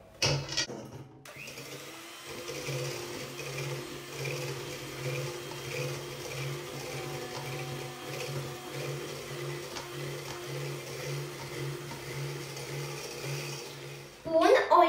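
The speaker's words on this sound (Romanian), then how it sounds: "Amestecăm din nou tot conținutul." Pancake batter with orange juice and lemon zest is mixed in a bowl, giving a steady, close, whirring drone that runs almost unbroken for about twelve seconds before stopping with a clatter.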